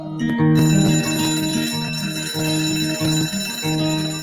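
A bell rings loudly and continuously, its metallic tone pulsing in a rapid, slightly uneven pattern that carries through the whole stretch without pause or voices.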